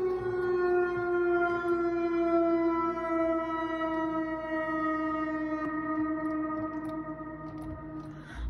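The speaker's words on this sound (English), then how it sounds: "That's the whelen siren that went off." A long, loud Whelen 4004 siren tone in a Roblox game holds steady and slowly drops in pitch as it winds down, droning alone without voices.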